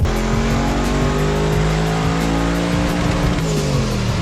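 A deep, rumbling twin-turbo LS V8 engine in a Mk1 Ford Escort burbles steadily nearby, with low exhaust pops and crackles throughout and no voices.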